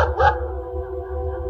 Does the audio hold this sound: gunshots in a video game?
no